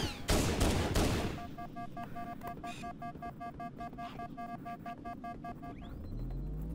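Gunfire in the Halo Anniversary video game: a heavy burst of shots opens, followed by rapid, repeated weapon fire with electronic beeping tones over a low rumble, loud and busy throughout.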